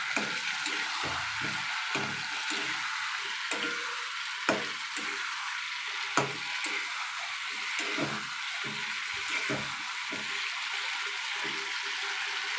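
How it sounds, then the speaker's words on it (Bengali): Meat sautéing in oil in a pan gives a steady, close hiss of frying, broken by soft scraping and occasional sharp clinks as it is stirred. "এটাকে 10 মিনিট ধরে কষাতে হবে যতক্ষণ না তেল ছেড়ে আসবে।"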